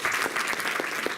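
Audience applause at a birthday celebration for a swami, a steady dense wash of many hands clapping throughout, fairly loud and close, with no voices over it.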